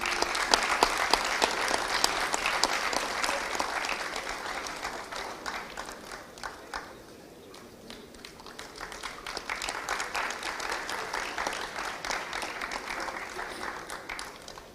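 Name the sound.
audience applause for a professor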